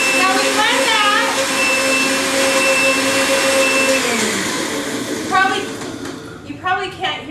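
A blender's motor drones loudly with a steady whine while blending ingredients for Mexican rice, then winds down near the end as a voice begins talking.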